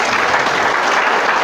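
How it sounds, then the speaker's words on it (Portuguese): Church congregation applauding in worship, a dense, steady wash of many hands clapping together at close range, unbroken and without speech. "Quem crê pode aplaudir e glorificar."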